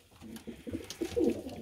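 A pigeon coos in a short series of soft, low, throaty calls close by, rising to a fuller coo near the end, with no talk.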